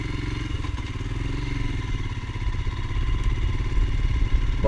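Royal Enfield Himalayan motorcycle engine running steadily while riding, a close, continuous low-pitched thrum that swells slightly as the bike picks up speed, with faint mechanical clatter and no talking.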